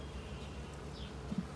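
Honey bees buzz steadily in an opened hive during a colony merge, a low continuous drone close by with a couple of brief louder bumps near the end.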